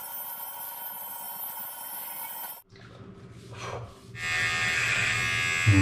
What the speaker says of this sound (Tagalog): Parang makita nyo paano mag-ahit.